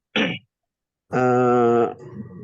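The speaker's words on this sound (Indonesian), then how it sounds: "qadarullah lagi batuk ini ya" A person gives a short cough, then after a pause a longer, strained throat-clearing rasp, both close and loud, on a live online class call.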